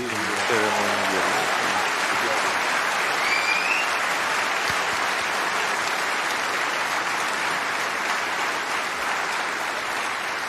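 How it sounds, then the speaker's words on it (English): Loud, sustained applause from a big audience at the BAFTA Games Awards fills the space, steady dense clapping with a few faint whoops near the start. "Give yourselves a round of applause, please."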